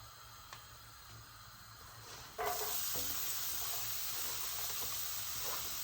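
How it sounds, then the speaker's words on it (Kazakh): Quiet room tone, then a sudden loud sizzle as onions hit hot oil in a pot, continuing as a steady frying hiss. "ең бірінші жуамызды қуырып аламыз"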